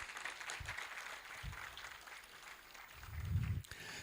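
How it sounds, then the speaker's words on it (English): Audience applause at a Ghana Culture Day celebration: a steady wash of clapping from a crowd runs throughout and swells slightly near the end. "I want us all to give ourselves a round of applause."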